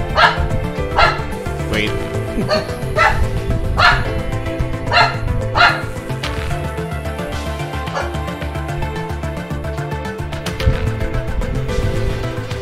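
A household dog barks in repeated sharp bursts near the microphone, over steady video game music, with a brief spoken word from a person.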